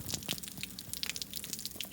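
Water from a garden hose splashes and dribbles out of the water pump shaft of a Tohatsu/Mercury 20HP outboard motor that is not running, a faint, irregular trickle of drips and small gushes.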